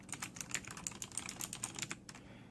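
Rapid, steady typing on a Razer BlackWidow 2014 mechanical keyboard with clicky Kailh Green switches, crisp close key clicks in quick succession with no talking.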